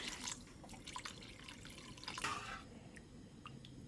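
Water splashes and trickles into a pan with a light, uneven drip and a brief louder gush near the middle, fairly close.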